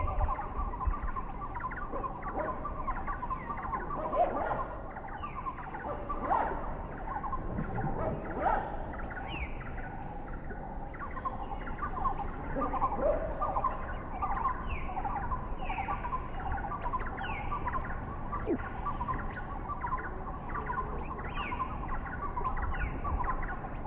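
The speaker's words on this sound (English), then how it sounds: "Number 16, the wreathed hornbill. At the very end of this recording, you will hear the bird flying away." Wreathed hornbills in Thailand give a steady series of repeated, honking barks against a busy background of other forest birds, fairly distant and moderately loud throughout.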